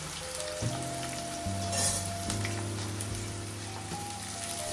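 Thinly sliced onions fry in oil for a pepper chicken gravy, giving a steady close sizzle under a low hum, with a brief burst of crackle partway through.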